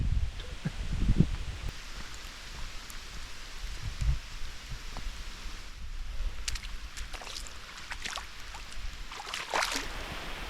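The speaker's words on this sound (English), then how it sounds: "looks like it's already starting to rain" Rain falling on leaves beside a river in the Texas Hill Country, a steady soft hiss of drops with occasional louder pattering taps and light rustling, continuous and fairly faint throughout.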